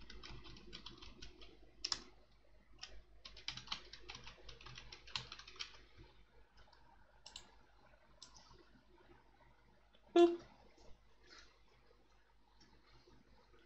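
Light computer keyboard keystrokes tap in quick scattered bursts while entering a password for Final Fantasy XIV, close and soft, with one louder clack near the end.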